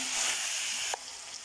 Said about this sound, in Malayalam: ഈ കടച്ചക്ക അരിഞ്ഞത് ഇടുക